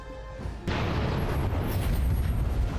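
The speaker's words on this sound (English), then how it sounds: "Here's a little bit of a kaboom." Explosion spell in Dragon Age: Origins, going off as one sudden loud blast that settles into a sustained, rumbling roar after a quieter start.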